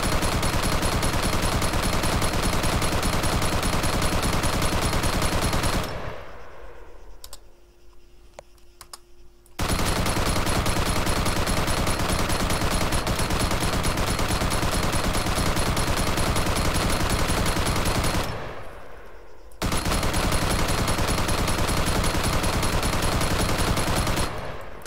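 Automatic rifle in Arma 3 fired in full auto, long loud continuous bursts of rapid shots broken by two short pauses, dense and relentless, no talking.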